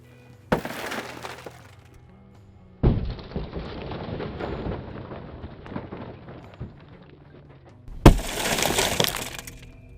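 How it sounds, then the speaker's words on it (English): Car window glass smashed with a combat knife during a vehicle search: a sharp crack and shatter, a long stretch of tinkling, scraping fragments, then a second loud burst of breaking glass near the end, with no talk. "now we're going to break the glass."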